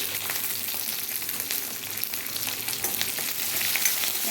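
Curry leaves and green chillies fry in hot oil in a pan, giving a steady, dense crackling sizzle with fine pops throughout. There is no talking.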